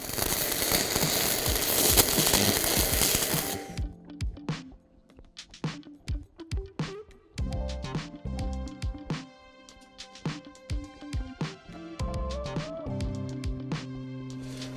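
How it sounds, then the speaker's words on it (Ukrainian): A sliding gate frame being welded: a dense, steady crackle at first, then a series of short, sharp welding bursts and metallic clicks with pauses between them, close and fairly loud. "починаємо все обварювати"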